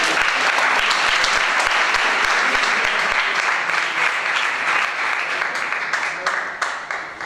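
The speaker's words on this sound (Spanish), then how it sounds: "un gran aplauso para el equipo 1" Audience applause for team 1 at a book presentation, a loud, sustained burst of many hands clapping that slowly thins out toward the end.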